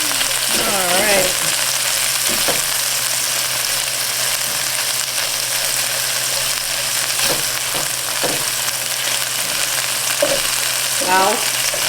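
Dill pickle chicken bites fry in a pan with a loud, continuous sizzle that holds steady throughout, close up, with a few faint clinks and soft scrapes mixed in.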